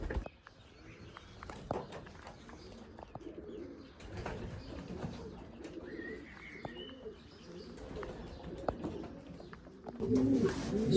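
Racing pigeons coo repeatedly at their loft, soft rolling calls layered over each other with occasional chirps and shuffling footsteps, ending in a louder burst of flapping or rustling close by.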